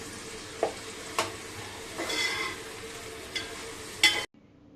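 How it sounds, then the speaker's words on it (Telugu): Green chilies, onions, curry leaves and coriander fry in a pan for a tamarind curry, giving a soft continuous sizzle punctuated by a few sharp stirring scrapes and clinks before it cuts off abruptly. "ఇలా పచ్చిమిరపకాయలు, ఉల్లిపాయలు, కరివేపాకు, కొత్తిమీర వేయించుకొని"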